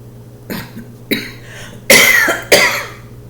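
Four separate coughs, the first two lighter and the last two louder and harsher, spaced out over a quiet background hum.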